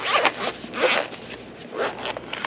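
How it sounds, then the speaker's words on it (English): Zipper on a Comica microphone case being pulled open in several short, close rasping strokes with brief pauses between them. "Okay, so let's unzip it."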